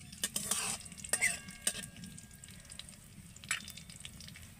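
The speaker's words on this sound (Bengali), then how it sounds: "এইগুলোকে এখন আমি তেলের মধ্যে দিয়ে দেব। একটু নেড়ে চেড়ে আমি ভেজে নেব এগুলোকে তেলের সাথে।" Cumin, mustard seeds and white sesame frying in oil while being stirred, a low, soft sizzle with a few sharp crackles and spatula clinks against the pan, fairly faint and close.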